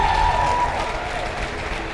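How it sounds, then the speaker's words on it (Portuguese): A church congregation applauds during a sermon, a broad wash of clapping and crowd noise at moderate volume with a faint tone under it. "Você pode dar um aplauso ao Senhor por isso"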